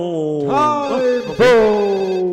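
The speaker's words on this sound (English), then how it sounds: "phone's ringing" A telephone rings loud and close, in two long, warbling, gliding tones that swell and then trail away, with no talk over them.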